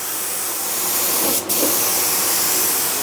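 A Graco HVLP 9.5 paint sprayer applying water-based paint in a small workshop: a loud continuous airy hiss, close up, with one brief break in the spray.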